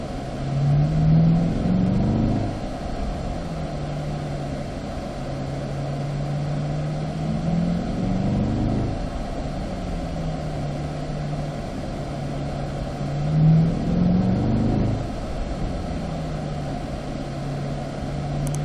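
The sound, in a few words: C8 Corvette engine accelerating on track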